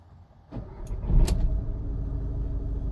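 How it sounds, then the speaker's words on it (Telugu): A 2014 Volkswagen Vento Highline with a 1.6 engine cranks and fires on a single start, then settles into a steady idle, close and moderately loud with no talk. "ఒకసారి ఇంజన్ అనేది స్టార్ట్ చేద్దాం."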